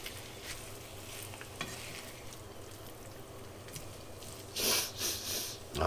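Sausage frying in a pan with a steady sizzle while a utensil breaks it into small pieces, with scraping stirs that grow louder and more frequent toward the end; no talking.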